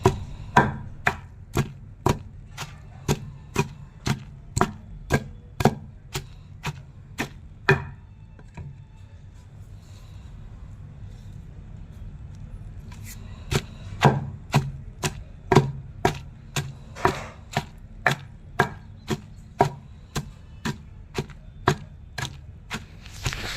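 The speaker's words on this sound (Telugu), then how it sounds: "కలమంద కొత్తిమీర పుదీనా తంగేడాకు కూడా వేసుకోవాలి ఫ్రెండ్స్ మొత్తం వీటిని పచ్చ పచ్చగా దంచుకోవాలి" Aloe vera, coriander, mint and tangedu leaves are pounded in a steady series of sharp, loud thuds, paused briefly in the middle before the rhythmic pounding resumes, with no voices.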